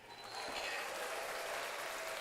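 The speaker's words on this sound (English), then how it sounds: "See if I still get a round of applause without the headphone in" A short applause sound effect plays at low volume, a hissy, even clapping texture that swells in after a brief quiet start and holds steady.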